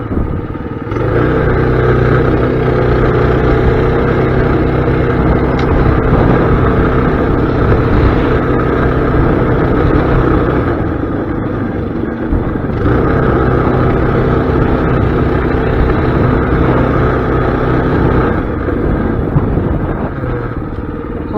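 Mini bike engine held at full throttle for the whole stretch, a steady loud buzzing drone with layered harmonics, briefly easing around the middle before climbing back to a sustained high-revving whine, no talking.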